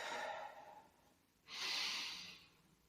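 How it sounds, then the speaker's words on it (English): One slow, deep breath during a mindfulness meditation: a soft airy inhale fades, then after a short pause a fuller, breathier exhale follows, quiet and close with no talking. "take a deeper breath"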